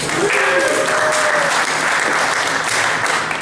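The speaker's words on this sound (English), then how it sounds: "I think we should start by giving a big round of applause to our host tonight, Hilliard's." An indoor standing-room crowd at an evening excise tax discussion gives the host a big round of applause, dense and loud clapping sustained evenly from start to finish.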